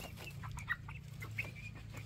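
Chickens cluck softly in a coop, with a few short clucks and brief sharper calls over a low steady hum, fairly near and quiet.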